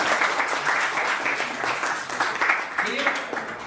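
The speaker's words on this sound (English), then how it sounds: "Claps for you." Sixth grade classmates applaud a student in a classroom, a steady wash of clapping running throughout alongside talking voices.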